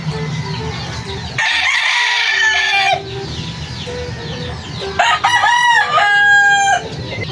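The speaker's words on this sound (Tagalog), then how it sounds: "So andito naman yung ating mga manok." Chickens in a morning farmyard, a rooster crowing loudly and close by with repeated cock-a-doodle-doo calls while hens cluck and chatter around it, no talking.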